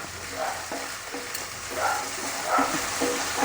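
Onions frying in a pan after ginger for momo filling, a close, steady sizzle with rhythmic stirring strokes scraping through it every second or so.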